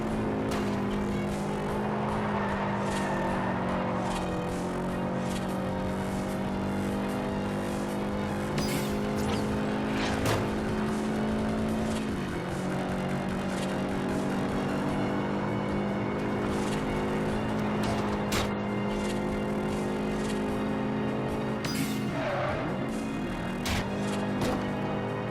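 A car in the racing game Forza Horizon threads through traffic, its engine droning steadily with shifting pitch. Sharp tyre and impact noises and other passing vehicles sound now and then over about twenty-five seconds.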